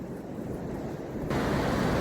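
Surf breaking on Perranporth Beach in Cornwall on an early March morning, a steady broadband wash that swells louder partway through as a nearer wave rolls in, with some wind noise and no talk.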